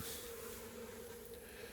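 Honeybees in a winter mini nuc hum steadily over brood frames, a close, continuous buzzing drone with a clear tonal pitch and no talk.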